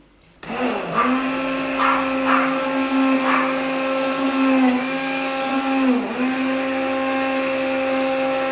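A blender starts and runs with a steady, loud motor whine, briefly dipping in pitch as it mixes a treatment for oily skin and greasy hair made with about 200 ml of warm water.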